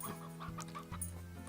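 A chicken in the video game Slime Rancher clucks: a short run of clucks, clear and close, over a steady game-music hum.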